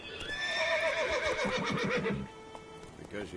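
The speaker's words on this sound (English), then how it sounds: "Luckily, Geralt can always count on his horse, Roach, to help him in his travels." Roach, Geralt's horse in the video game The Witcher 3, lets out a loud, close, quavering neigh that slides down in pitch and fades after about two seconds, followed by a few faint hoof sounds.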